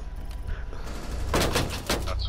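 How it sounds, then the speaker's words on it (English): Gunfire in the Rainbow Six Siege video game, including shots fired through a wall, crackles in quick bursts of rapid shots over a low background, fairly faint and brief. "One right in front of me, shooting me through the wall."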